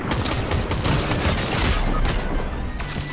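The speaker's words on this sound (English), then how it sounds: "Can you please stop shooting at me?" Dense video-game gunfire: a sustained, loud volley of rapid overlapping shots and bursts that runs without a break for about three seconds, with no voices over it.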